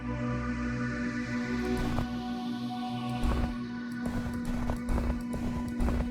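Footstep sound effects from an Unreal and Wwise game audio demo tap out a steady walking rhythm of sharp steps over a constant humming tone and background game sound.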